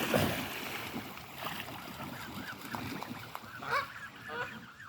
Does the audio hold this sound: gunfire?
no